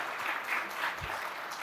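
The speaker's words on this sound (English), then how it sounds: "That applause you hear is Indians counting the medals already in 2028." Audience applause fills a hall at a talk with the US Ambassador to India, steady and dense throughout, a crowd clapping together with no voices over it.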